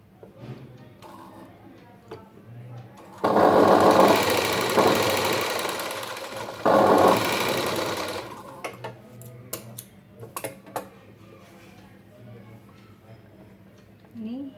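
A sewing machine stitches a Paithani blouse in two loud bursts of rapid mechanical chatter, each a couple of seconds long, with someone talking quietly before, between and after them and small handling clicks.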